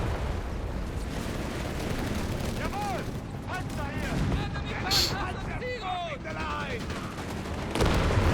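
Gunfire and grenade blasts from a Company of Heroes 3 match, US Forces against Deutsches Afrikakorps, crack and thud repeatedly in a dense, continuous battle din, with whistling tones and bursts, plus a louder hit near the end.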